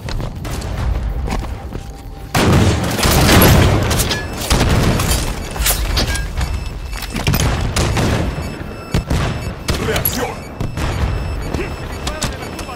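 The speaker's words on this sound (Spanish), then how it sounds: "Buen disparo a la cabeza." Repeated sharp gunshots and heavy booms from a Halo 5 battle, loud and dense, with bursts of firing and occasional footsteps in between.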